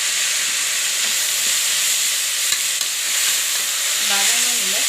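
Washed banana flower lightly sautéed in a pan for kootu gives off a loud, steady hiss and sizzle, with faint stirring scrapes and brief background noises near the end.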